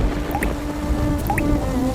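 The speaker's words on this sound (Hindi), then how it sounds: "रमेश और रूपा की छोटी सी झोपड़ी की छत से पानी टपक रहा था" Water dripping from the leaking roof of a small hut in an animated story, a few distinct plinking drops falling at irregular intervals over a steady low background.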